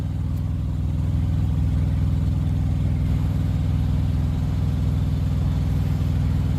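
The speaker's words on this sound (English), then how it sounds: "And this motor is a Detroit, it's a DD15." A Detroit DD15 diesel engine in a 2016 Freightliner Cascadia truck runs at a steady idle, a loud continuous low rumble close by with no talking.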